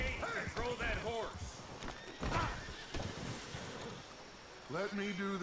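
A horse in a video game whinnies several times with rising, wavering cries, its hooves clip-clopping between calls while someone talks over it.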